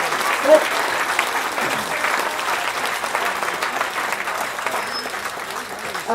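Steady crowd applause at a charity fundraising auction gala, sustained and dense for several seconds with no break, a few louder claps rising near the start and end.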